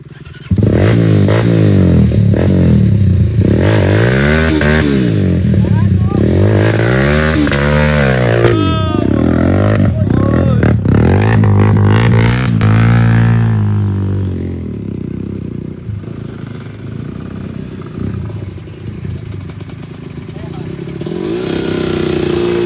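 A motorcycle engine revs close by in repeated rising and falling bursts, with rattling clatter and people talking over it, then settles to a lower idle.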